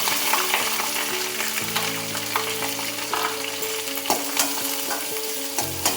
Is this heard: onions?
yes